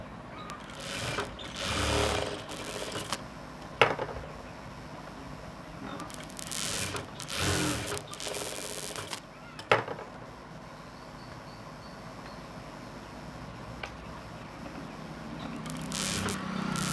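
A sewing machine stitches a blouse sleeve to the bodice in a tailoring shop, running in several close bursts of rapid mechanical whirring separated by pauses, with a few handling clicks and thumps between them.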